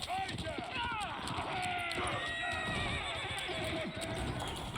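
Horses of mounted horse archers in a strategy video game neigh and whinny several times amid battle noise and hoofbeats, with a voice talking over them throughout.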